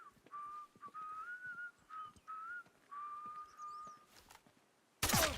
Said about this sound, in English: It's a nice little tune you're whistling.